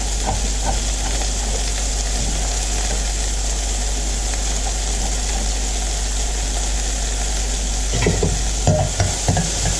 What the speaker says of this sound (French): Donc je fais sauter mes oignons